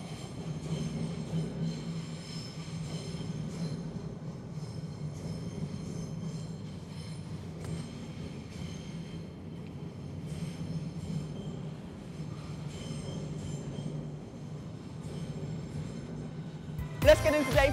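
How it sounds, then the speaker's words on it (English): Train rumbling through a tunnel, a sustained low steady roar with faint wheel squeal and rattling, echoing and fairly distant, ending in a louder sudden burst. "the train!"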